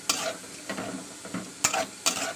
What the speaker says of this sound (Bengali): ভালো করে নাড়াচাড়া করবো ভালো করে আমি মশলা মশলা মিশিয়ে দিচ্ছি ডালটাকে